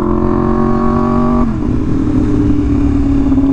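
A motorcycle engine on a cold, foggy group ride holds a steady high rev, then drops to a lower continuous drone, loud and close throughout.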